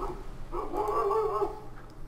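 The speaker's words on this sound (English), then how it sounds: "That's my dog barking." A pet dog named Sasha barks and yips near a house, a steady run of sharp, fairly close calls lasting a couple of seconds with no talk over them.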